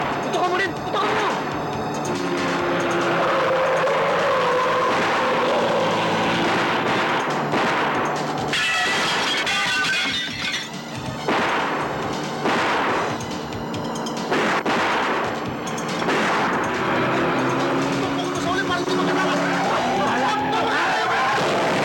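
A movie shootout with dense gunfire, bursts of shots and explosive cracks amid loud music and effects, while voices shout over the din.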